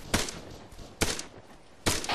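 Gunfire in a military video game training session, three sharp shots spaced about a second apart, moderately loud with short echoing tails and no talking.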